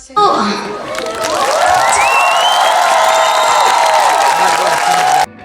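Audience applause and cheering fill a hall after a children's dance performance, a steady dense wash of clapping with shouts and voices mixed in, loud and continuous before stopping abruptly.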